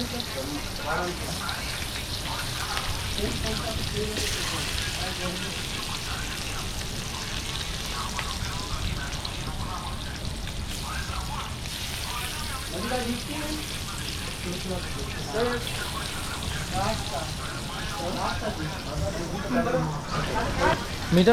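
Fish fry in a pan in an Indian home kitchen near Mumbai with a soft, steady sizzle and crackle throughout, while a voice talks quietly at times.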